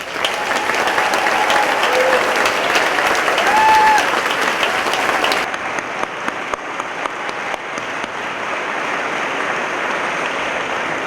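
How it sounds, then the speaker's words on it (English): Audience applause for a pops orchestra at a Presidents Day Stars and Stripes celebration, a dense, steady wash of many hands clapping that continues at full strength and then drops to a slightly thinner, quieter level partway through. "Let's have one more round of applause for the Pops Orchestra."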